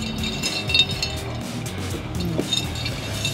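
A drink being stirred in a glass at a rum and burger saloon, light clinks of a stirrer against the glass over a low murmur of background chatter and room noise.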